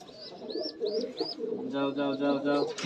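Pigeons coo and murmur close by in a pigeon loft in repeated soft calls, with some higher chirps mixed in and a low background rumble.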